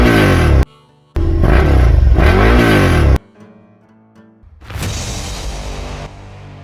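650cc V-twin motorcycle engine accelerating nearby, loud revs broken by a short pause, then fading into a quieter rumble and a burst of broadband noise as it pulls away.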